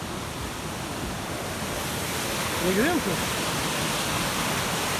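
Waterfall and rushing river at a rocky site with small caves, a loud steady roar of falling water filling the whole clip, with a brief voice speaking over it.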